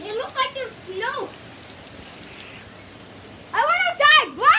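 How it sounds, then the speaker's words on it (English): Heavy rain pours steadily during a July thunderstorm, a continuous broadband hiss heard close by, with excited voices talking over it at the start and again near the end. "It's raining so hard."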